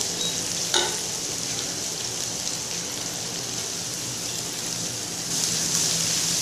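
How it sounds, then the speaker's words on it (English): Chopped garlic stir-fries in a wok with shallots, giving a continuous dense sizzle that stays close and even. A brief utensil clack sounds early, and the hiss grows a little brighter near the end. "Continue to stir fry it until garlic turns golden."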